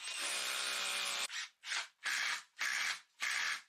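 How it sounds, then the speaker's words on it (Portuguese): Power saw cutting a timber base plate of calibrated 63 by 38 mm rectangular wood, one long cut followed by four short rasping bursts, close and loud with no talk. "e vou cortar uma placa de base primeiro."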